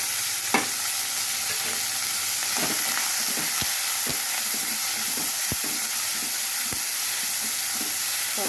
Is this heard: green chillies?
yes